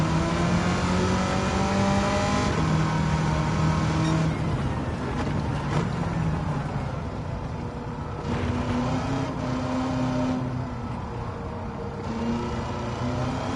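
Engine-swapped 1969 Corvette lapping an open track in Gran Turismo 7, its engine droning loud and close with pitch rising through gears and dipping at shifts in a repeating accelerate-and-lift pattern.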